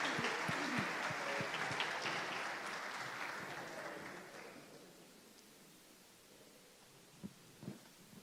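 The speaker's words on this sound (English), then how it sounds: "A big applause for her." Audience applause rises at a startup summit stage as a speaker is called up, a dense wash of clapping that gradually fades over several seconds, leaving a quiet room with a couple of faint knocks at the end.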